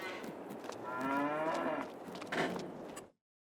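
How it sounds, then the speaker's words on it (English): Cows moo in the Oberkirchheim barn of Farming Simulator 22, a herd of Brown Swiss and Holsteins. There are two or three drawn-out, fairly close calls over about three seconds, clear and without voices. "We have animated cows."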